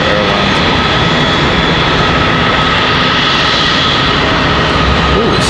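Airbus A319 jet engine spinning up on a smoky startup at Charlotte Douglas airport, a steady loud whine and roar holding without a break.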